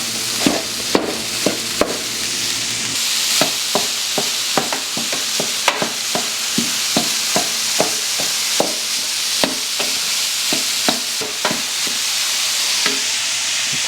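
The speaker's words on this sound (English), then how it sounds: "it's frying the meat right now" Meat frying in a pan on medium heat, a steady loud sizzle running throughout with repeated sharp clacks of a utensil stirring and scraping, no voices.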